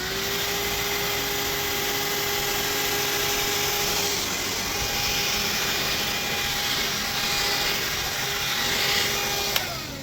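A TUSA vacuum cleaner fitted with its suction brush runs in a steady, loud, unbroken whine with a constant hum from start to finish, close by and with no talking.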